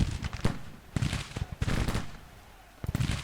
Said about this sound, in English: Our guns are shelling the enemy.